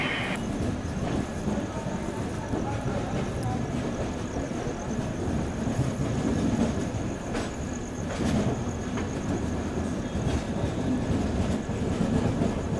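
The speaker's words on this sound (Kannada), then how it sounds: "ಸಕ್ಸಸ್ಫುಲಿ ನಮ್ಮ ಕ್ರಾಂತಿವೀರ ಸಂಗೊಳ್ಳಿ ರಾಯಣ್ಣ ಬೆಂಗಳೂರಿಗೆ ಹೇಳೋ ಟೈಮಿಗೆ ಬಂತು." The Sangolli Rayanna Express arrives at Bengaluru, rumbling continuously with rhythmic clickety-clack from the wheels, several sharp clanks and a faint squeal, heard close and loud throughout with some speech in the background.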